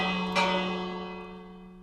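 A single isolated bell strike from the Minecraft video game rings out clearly, then decays slowly with a sustained metallic hum over about two seconds.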